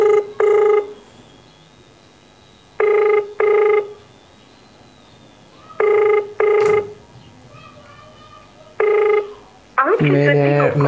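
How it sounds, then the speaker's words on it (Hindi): An unanswered phone call rings with a ringback tone in paired beeps repeating every few seconds, steady and clear against a quiet background, until a brief burst of other sound at the end. "आप रिंगटोन पूरी सुन लीजिए"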